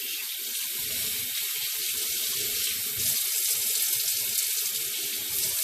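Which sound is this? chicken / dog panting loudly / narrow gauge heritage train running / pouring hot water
pouring hot water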